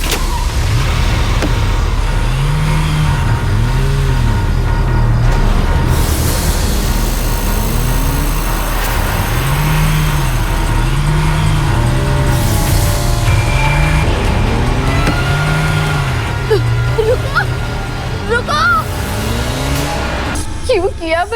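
A car arrives and is parked: a long, steady engine rumble with a rhythmic, wavering whir and occasional clicks and squeaks, heard under people talking throughout.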